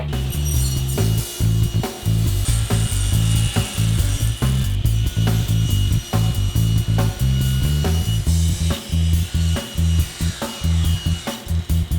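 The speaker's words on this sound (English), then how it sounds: "Now it's time to cut the length and the width of my panel." A table saw rips a wood panel to length and width for a breakfast tray, giving a loud, steady mechanical whine with a low hum that wavers rhythmically as the wood feeds through the blade for the full twelve seconds, with no talking.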